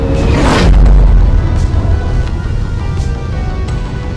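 Loud booming blasts from the video game Deep Rock Galactic, a heavy deep explosion rumbling early on followed by a dense, continuous roar of smaller detonations and turret fire, with no talk over it.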